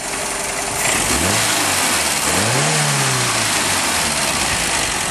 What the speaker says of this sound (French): Un petit coup d'accélérateur, mon cher Willy.